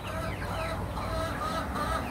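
A small flock of about thirty free-range chickens clucks close by in overlapping, busy chatter, several birds calling at once without pause.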